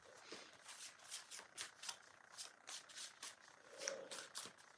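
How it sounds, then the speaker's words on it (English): Oracle cards are shuffled and drawn by hand in soft, rhythmic riffling bursts, faint and close, with no voices over them. "Let me get another card from you."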